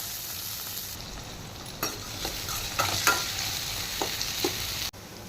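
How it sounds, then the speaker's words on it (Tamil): Cut onions sizzle steadily in hot oil in a pan nearby, with several brief scraping stirs and taps from a spatula over the constant frying hiss. "அது பொறிஞ்ச உடனே வெங்காயம் சேர்த்துக்கலாம்"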